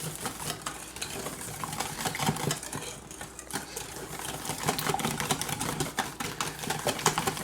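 Eggs whisked in a bowl for an omelet, a fast, continuous rattling clatter of the whisk against the bowl sides, moderately loud and alone.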